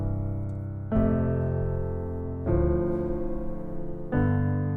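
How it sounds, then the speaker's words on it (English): Four sustained piano chords step through a I–IV–II–V progression, each struck firmly and left ringing until the next, with a fifth in the left hand, a close, full and even sound without talk. "So using the chord progression chord 1, chord 4, chord 2, and chord 5 would sound like this."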